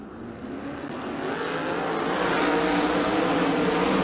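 Sprint cars race on a dirt track, their engines building into a loud, sustained roar as the field accelerates together, with the volume swelling steadily through the run.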